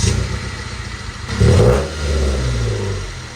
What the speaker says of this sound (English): here's a clip of the original exhaust I took off because it was too loud.